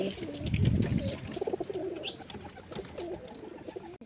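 Many pigeons coo together at their rooftop loft, overlapping throaty murmurs close at hand, with an occasional chirp and a brief flutter of wings.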